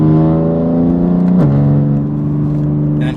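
A BMW G80 M3 revs hard under acceleration, its engine note climbing steadily before a quick upshift drops the pitch, then pulling on loudly and close by.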